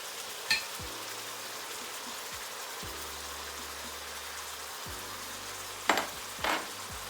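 Steady sizzling of food frying in a pan, soft and constant, with a few light clinks of a utensil and a low hum underneath.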